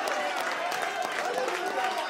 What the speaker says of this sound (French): Oh, donnez une acclamation